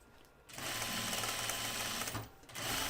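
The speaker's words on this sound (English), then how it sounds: "I can hear this machine a little bit protesting this thread." Sewing machine running steadily and slightly labouring as it pushes thread through a lightweight flight suit fabric, a dense whirring hum with a short pause before it starts again.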